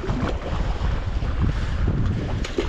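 Strong wind blows steadily across the microphone on a fishing boat out on the Black Sea, a loud, continuous rushing buffet with no talk.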